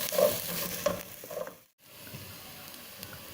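Chopped onions hit a hot pan for homemade pizza sauce, a soft frying hiss with a few stirring scrapes, then a brief gap and a quieter steady sizzle.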